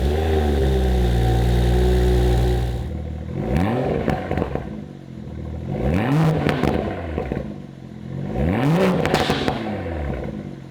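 A Toyota GR Supra starts out on a test drive, a steady engine drone then three rising and falling revs as it pulls away and shifts, close and fairly loud.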